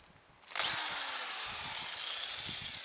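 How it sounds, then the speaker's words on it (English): A power drill whirs up suddenly and keeps spinning at a steady high pitch, turning over a small lawn mower engine that has no recoil starter, its low rhythmic churning beneath. "I'm going to use drill with this."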